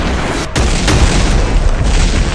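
An RPG rocket explosion in the online shooter Masked Forces, a loud deep boom with sharp bursts and a rumbling, sustained roar afterward.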